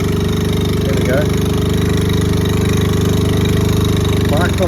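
Honda Z50A motorcycle engine running while riding, a loud, steady, close-up buzzing drone that holds throughout, with a few faint voice sounds over it.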